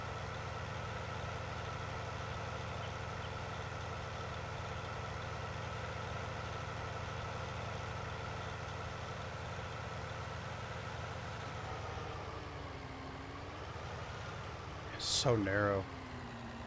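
A slow-moving tractor in Farming Simulator 19 drones steadily with a low, continuous engine hum throughout, a voice speaking briefly over it near the end.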